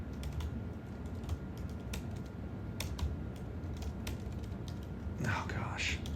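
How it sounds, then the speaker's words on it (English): Slow, sparse keystrokes tapped on a computer keyboard, quiet and close, with irregular gaps between clicks and a faint room hiss underneath. "I'm typing slowly there"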